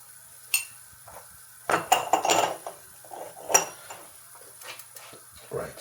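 New dishes and cutlery clink and clatter in a home kitchen while cooking samosas and onion bhajis. Irregular bright knocks and scrapes come in small bursts, close by, with quiet gaps between.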